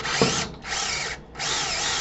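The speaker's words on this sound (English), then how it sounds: "we're going to hold on the drill bit tight because we're not taking a lot of metal off." Power drill boring a 3/8 hole through an aluminum Harley primary cover, whining in three close, loud bursts with brief pauses between them.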